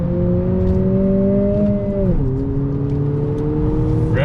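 A 2020 Honda Civic Si sedan engine hums loudly and steadily, its pitch dropping abruptly partway through on a downshift and then holding a lower drone.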